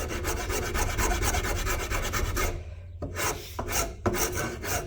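A large hand file, longer than a forearm, rasps against a wooden mallet in rapid back-and-forth strokes, loud and close, pausing briefly before resuming with a few slower strokes.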